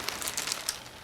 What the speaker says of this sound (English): with the packaging, you get your nice little plastic bag